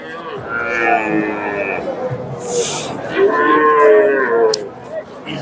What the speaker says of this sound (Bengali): এক জোড়া বকনা দেখতেছি ফ্রিজিয়ান জাতের বকনা